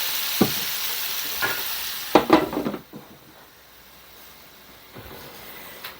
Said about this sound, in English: while our onions and meat are still browning